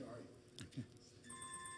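A new mobile phone ringtone goes off during a residents association meeting, with a steady tonal ring entering midway and continuing under a person speaking in the room.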